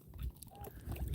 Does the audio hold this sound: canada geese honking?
yes